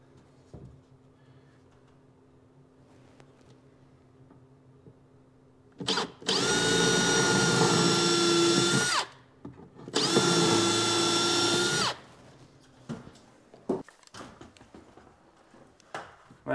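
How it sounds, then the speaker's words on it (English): A power drill pre-drills holes for screws while kitchen cabinets are installed, running in two steady, loud bursts of about three and two seconds separated by a short pause, with quiet room noise before and after. "And then I pre-drill."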